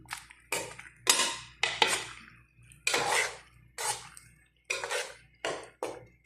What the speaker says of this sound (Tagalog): Haluin natin para hindi siya didikit sa kaldero,